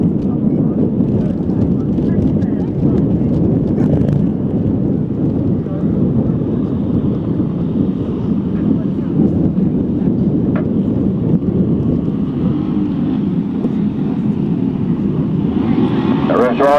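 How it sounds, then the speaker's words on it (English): Grasstrack racing motorcycle engines rev together at the start of a final, a loud, dense, steady roar that carries unbroken through the whole stretch. "The revs rise on the starters"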